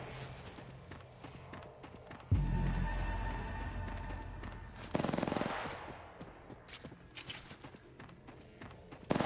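Apex Legends gunfire rattles out in a sustained automatic burst, loud and close, followed by another sharp volley and scattered footsteps and clicks of in-game movement.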